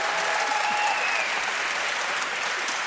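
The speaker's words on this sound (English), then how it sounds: "Big applause for you guys." Steady, even applause from an audience at the Young Inventors Prize 2025 ceremony, continuous and full for nearly three seconds with faint tonal sounds mixed in.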